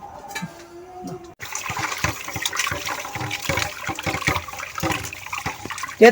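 Water runs from a tap into a container while chicken offal is rinsed, a steady splashing stream beginning after a quiet start, with small clatters of handling.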